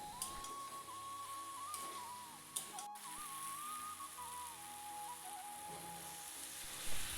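Vegetables sautéing in a pan with cumin paste and ginger paste, a steady soft sizzle running throughout with a few faint scrapes, close and fairly quiet, no one talking.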